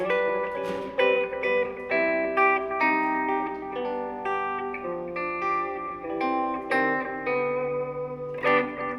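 An electric guitar plays a slow, clean melodic line through a studio delay effect unit, and each note leaves soft repeating echoes that trail off behind it.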